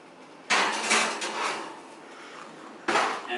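A baking pan slides into a preheated 375-degree home oven with a loud metallic scrape and clatter, followed by a second short clank as the rack or door moves, with no talking.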